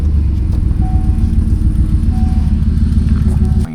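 A GMC 2500 HD pickup truck running, a loud, steady low engine rumble with a rhythmic throb close by, holding evenly throughout before dropping off slightly at the very end.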